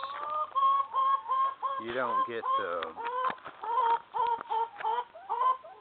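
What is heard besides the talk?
chickens clucking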